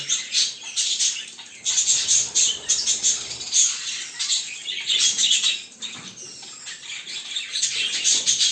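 Show budgerigars courting in a cage chirp and warble steadily in a busy, overlapping chatter, with soft wing flutters now and then.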